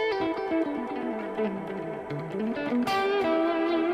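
Electric guitar played with effects, a melodic line of sustained notes and bends with a chorus-like shimmer and reverb, steady and fairly loud.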